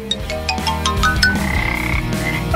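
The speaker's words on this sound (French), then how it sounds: "Une grenouille vivante." A live frog croaks repeatedly in a cartoon challenge scene, a steady run of loud, close, rhythmic croaks layered over a tonal backing, with no talking.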